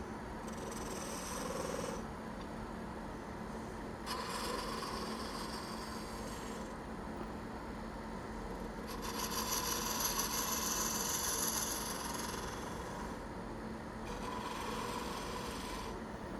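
A wood lathe hums steadily while a turning tool rasps against a spinning Christmas ornament to shape a small bead, with scraping passes that swell and ease in sections, close and alone without speech.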